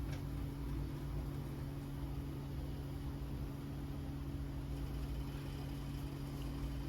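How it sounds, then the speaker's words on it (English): Hush puppies frying in hot oil give off a steady, even sizzle that runs the whole time, with a low hum underneath and no voices. "that one's going ahead and it's frying up now, so it floated on to the top"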